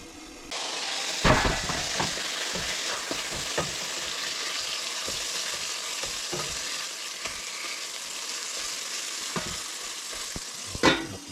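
Seasoned shrimp with garlic sizzle steadily in a pan, a broad constant frying hiss with occasional scrapes and clinks of stirring, close by and without talk.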